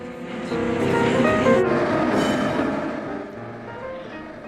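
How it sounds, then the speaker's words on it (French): Electric tram rolling through Lisbon, a steady rumbling run with faint rail clatter and a brief lower hum toward the end, heard alone without talk. "C'est par le tram que nous entamons notre découverte de Lisbonne"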